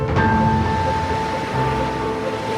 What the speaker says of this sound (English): black cliffs melt into the stormy sea channel known as the Sound of Harris